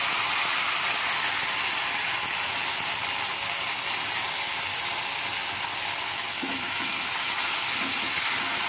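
A paste of ground cashew, poppy seed, melon seed and raisin fries in hot ghee for a shahi doodh paneer, giving a steady, loud, close sizzle that runs unbroken, with faint soft stirring scrapes near the end.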